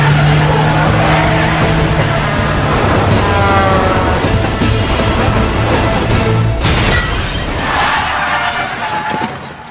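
Film car chase inside a tunnel ending in a crash: loud, continuous engine roar and tire noise, with a sharp impact-like burst near the end and dense action sound throughout.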